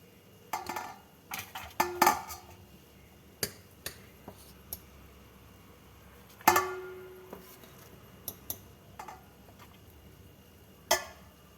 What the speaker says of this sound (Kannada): ಈಗ ಇದನ್ನು ಒಂದು ದೊಡ್ಡ ಪಾತ್ರೆಗೆ ತಗೊಂಡು ಚೆನ್ನಾಗಿ ಆರಿಸಿಟ್ಕೊಳ್ತೀನಿ